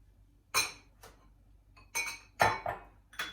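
Diced fresh strawberries dropped into a pot, giving several short close clinks and knocks from the pot and spoon, spaced irregularly over a few seconds with no talking.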